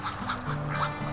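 Ducks quack in a garden among lilies, a short run of several honking calls heard fairly close and clear with no talking.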